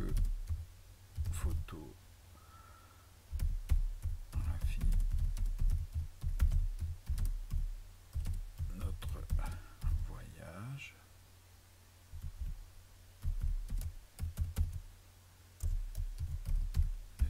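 Typing a short message on a computer keyboard while sending files online: close, irregular bursts of key clicks with pauses between them, under a person speaking French.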